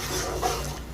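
A pan being stirred while cooking a Bengali spiced egg dish, giving a continuous close scraping, rubbing sound with no talk over it.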